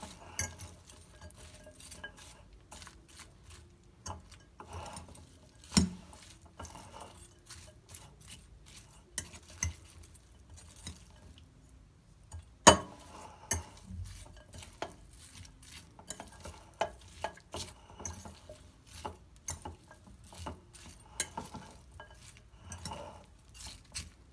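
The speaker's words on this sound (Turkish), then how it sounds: "Zeytinyağımızı ilave ediyoruz. Ve harmanlıyoruz." Albanian-style liver being stirred with added olive oil, with quiet, irregular metallic clinks of a utensil against the pan over a soft sizzle, and a few sharper knocks along the way.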